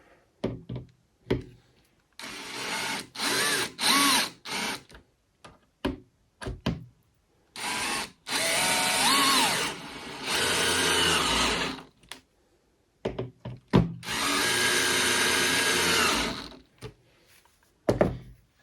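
A power drill bores holes through a wooden jig for Layens beehive frames in repeated bursts of several seconds, loud and close, with knocks and thumps of handling in between and no talking.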